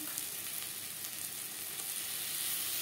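Onion and tomato with salt, turmeric, ginger paste and green chili paste fry in a pan for a fish curry, a steady bright sizzle with faint stirring scrapes, close and continuous.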